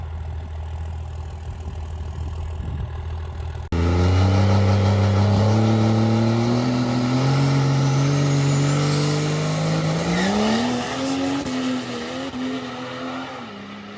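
A drag race vehicle idles roughly, then launches into a loud full-throttle pass for the 660, its engine note climbing steadily through gears with faint tire noise, close and alone without voices.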